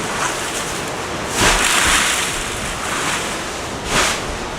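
Ocean surf washes steadily along a wild shoreline, a continuous rushing roar with two louder surges of breaking waves, heard alone without any voices.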